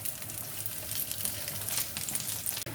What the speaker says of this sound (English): place it in the oil and then move it to the center